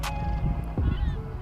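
Geese and ducks honk at a bird sanctuary, several brief calls rising over a constant low outdoor rumble.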